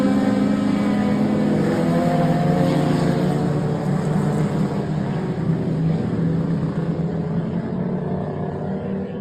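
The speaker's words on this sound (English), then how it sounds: "You can see the other cars, how fast they are." Race cars roar around a track in a steady, loud engine drone that stays continuous throughout, with no voices.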